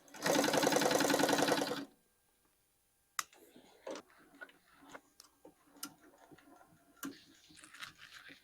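A sewing machine with a quiet, variable-speed motor stitches motorcycle seat upholstery in a loud, fast, steady mechanical rattle for about two seconds, followed by quiet, scattered clicks and handling taps.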